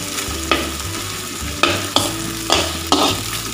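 Okra frying in a pan and being stirred with a spatula, a loud close sizzle broken by several sharp scraping strokes against the metal at roughly one-second intervals.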